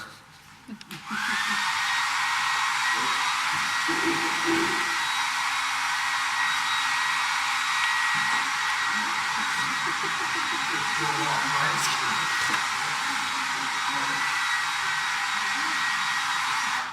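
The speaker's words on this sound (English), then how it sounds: "I'm going to take a ping pong ball and a hair dryer." A hair dryer starts up and blows continuously at high speed to float a ping pong ball, a loud steady whoosh with a faint voice talking underneath.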